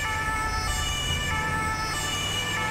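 A fast ambulance's siren wails continuously and loudly in the GTA 5 video game, a steady electronic tone blended with traffic and engine noise, no voices.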